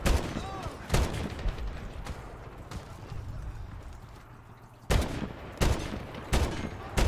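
Gunfire in the World War II shooter Medal of Honor: a few sharp, loud shots stand out, one near the start and a tight cluster near the end, over a low rumbling battle backdrop with a faint voice briefly heard.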